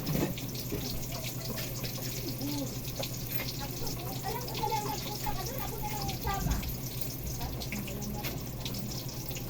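Tap water runs steadily into a kitchen sink that is nearly full to the brim, a continuous splashing wash heard under people chatting nearby in a small eatery.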